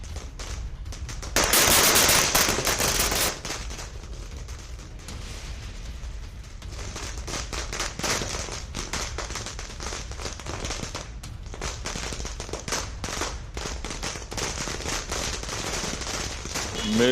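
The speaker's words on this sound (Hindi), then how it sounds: "सतीश पुनिया के घर पर आतिशबाजी की गई है।" Fireworks set off at a politician's house in Rajasthan during an election-result celebration, a dense burst of crackling bangs then a sustained rapid popping that runs on loud and continuous for many seconds.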